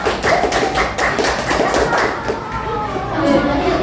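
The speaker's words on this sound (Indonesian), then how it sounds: "berikan tepuk tangan sekali lagi ya" A school class applauds a group of children again after their performance, a close, busy patter of claps with children's voices underneath, steady for a few seconds.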